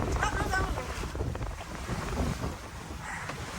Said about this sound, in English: hearing nothing but the wind and the waves